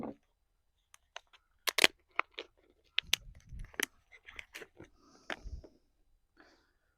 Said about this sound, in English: A little bit more help with these scissors.